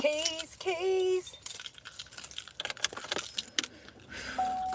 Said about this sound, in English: first of all, I need keys